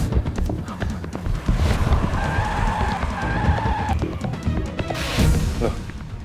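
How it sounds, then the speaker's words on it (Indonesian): A car skids out of control in a dramatic sound effect, with sharp tyre screeches rising in the middle and again near the end over engine noise and thumping impacts. "Loh, kenapa mobil Andrew jadi hilang kendali?"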